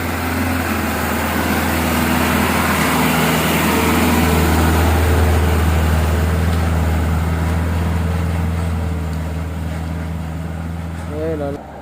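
A Hino 500 FM 260 TI truck engine pulls hard up a steep, slippery incline, a loud continuous drone that swells slightly as the throttle stays open, with a voice speaking over it.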